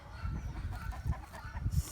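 Hens on a small poultry breeding farm cluck softly nearby in a few short, uneven bursts, faint and low against quiet background noise, with no talk over them.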